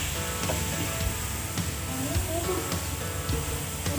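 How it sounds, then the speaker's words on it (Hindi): Fresh carrots tumble into a hot pan for gajar ka halwa and sizzle steadily, a close, even frying hiss with light stirring clatter, while someone talks over it. "अब मैं डालती हूँ उसमें गाजरें।"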